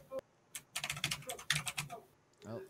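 Fingers clatter quickly on a computer keyboard in close, uneven bursts of sharp clicks with brief pauses, and a voice speaks briefly near the end.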